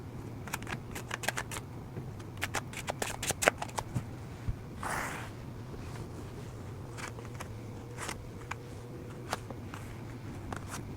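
Tarot cards being shuffled by hand, a run of crisp, quick riffling clicks and flutters in irregular bursts, close and fairly quiet, with a soft brushing sound partway through and no speech.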